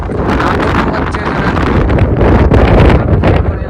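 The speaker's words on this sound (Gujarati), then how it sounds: "પવન એટલો છે ને, એ સાઈડ બધા પર્વત જ છે, પવન એટલો છે કે" Strong wind on a mountain hilltop at Saputara buffets the microphone in loud, continuous gusts, rumbling and roaring throughout with no clear speech.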